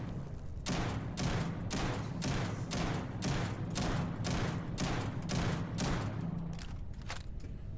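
A video game shotgun fires in a steady rhythm of about a dozen loud, close blasts at quick, even intervals with no talking, then the shooting stops.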